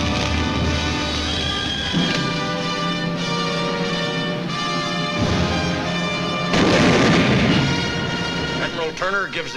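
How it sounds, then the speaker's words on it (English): Mortar barrage during the battle of Iwo Jima, heavy repeated booms and blasts over a rumbling din of wartime combat, loud and dense throughout, with a louder burst near the end. "The mortar barrage searches out hidden machine gun nests."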